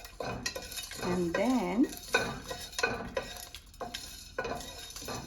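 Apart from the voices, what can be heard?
dry roasting in a pan, stirring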